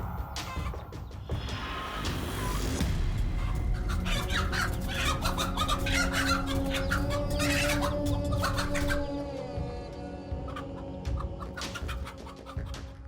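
A mother hen clucks and calls repeatedly while guarding her chicks against snakes, with loud bursts of squawking and clucks in the middle, over a background of steady hum.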